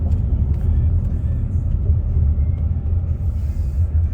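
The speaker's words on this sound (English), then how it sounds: "there's a bus trying to get over here" A bus rumbles past close by with a deep, steady engine drone that fills the whole stretch. A faint hiss is heard near the end.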